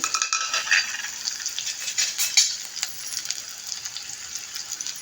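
Slit green chillies and onions fry in hot tempering oil in a pan, giving a steady bright sizzle with scattered crackles and a few scraping stirs of a spoon, no voices.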